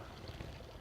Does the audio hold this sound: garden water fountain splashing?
yes